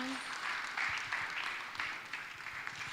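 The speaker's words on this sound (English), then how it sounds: "Can we please give them a loud applause once again?" Audience applause for a panel at an investment summit and demo day: a continuous wash of many hands clapping, steady and fairly loud throughout, with no voices over it.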